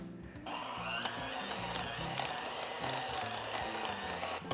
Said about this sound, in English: first I'm gonna plug my mixer in